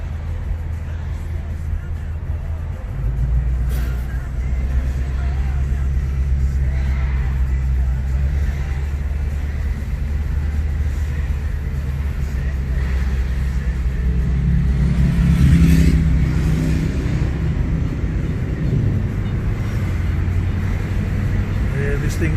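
A 2018 car idling and creeping in traffic, its engine giving a steady low rumble that swells briefly with a throttle blip, heard from inside the cabin under a voice talking.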